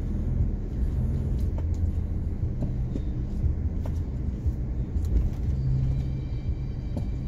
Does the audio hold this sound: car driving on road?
yes